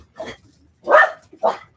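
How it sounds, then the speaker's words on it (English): Dogs on a sailing boat give three loud, close barks, one short yap, then a longer full bark and a final sharp bark, with quiet gaps between. "they keep like barking to scare them away"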